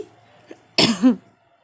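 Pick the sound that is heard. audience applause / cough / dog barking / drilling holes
cough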